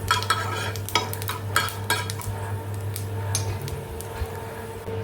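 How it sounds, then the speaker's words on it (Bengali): Five-spice seeds hit very hot oil in a pan, giving a steady sizzle under repeated close clatter of a utensil stirring and scraping against the metal. "সো তেলটা একদম গরম হয়ে গেছিলো, তার মধ্যে আমি দিয়ে দিয়েছি 5 ফোড়নটা।"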